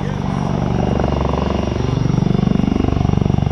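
A Bell Boeing CV-22 Osprey tiltrotor at an airshow flies in helicopter mode, its big rotors producing a loud, steady thudding beat over a broad engine roar that grows more pulsing toward the end.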